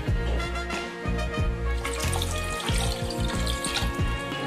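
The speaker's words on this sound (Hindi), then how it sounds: "पहले हम पानी डालेंगे।" Water poured into a small pressure cooker before boiling brinjal for bharta: a steady, close, gurgling stream of liquid with no talking.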